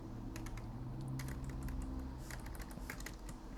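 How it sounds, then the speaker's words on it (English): Steady, fairly faint clatter of typing on a computer keyboard, with quick irregular key taps over a constant low background hum, and no one speaking. "So let me type the positions"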